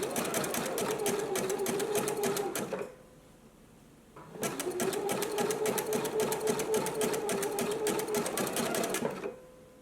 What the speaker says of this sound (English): I'm just going to do a zigzag stitch over the yarn